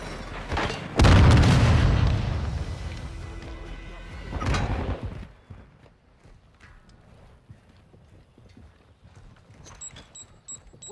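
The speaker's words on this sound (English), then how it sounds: "Throwing grenade!" A grenade blast in the video game Call of Duty: Modern Warfare II, a loud booming burst about a second in with a second smaller thump near four seconds, rumble tapering off into quiet background sounds with faint voices.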